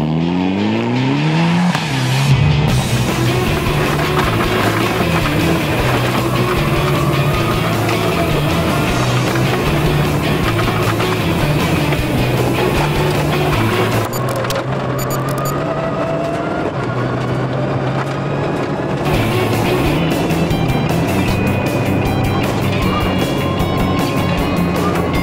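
Rally car out on a final pre-event test run, its engine droning loud and steady throughout with rising revs and passing roar, a brief dip midway before the engine noise returns strongly.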